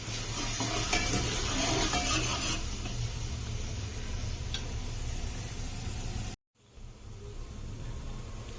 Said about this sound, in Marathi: याला चांगला असं शिजू द्यायचा आता याला पेस्टला